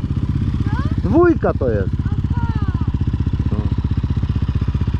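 A Raptor 700 ATV engine running at a steady, throbbing idle-like pulse while gears are shifted, loud and close, with someone talking briefly over it.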